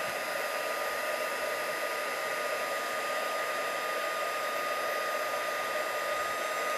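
A heat tool heats white embossing powder with a constant, loud rushing blow of hot air that runs without a break for the full length, close up and with no voices.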